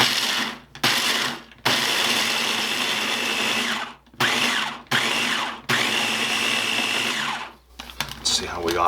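Food processor pulsing pecans and walnuts in bursts of whirring and chopping, about five loud pulses separated by short pauses, close by with no talk.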